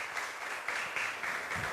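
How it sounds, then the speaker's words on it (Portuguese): Steady applause from a small church congregation for a visitor, a brief patter of clapping with no voices over it. "Salve de palmas para ela."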